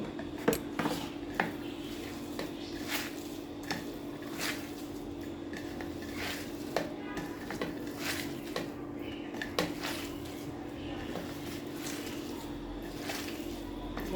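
Radish and taki fish mash mixed by hand in a bowl, with soft squishing and occasional light clinks against the dish, steady and close throughout.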